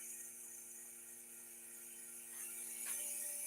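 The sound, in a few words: vacuum pump running for lathe vacuum chuck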